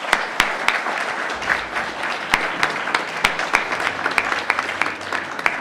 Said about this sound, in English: a huge round of applause again for all of our startups that took part today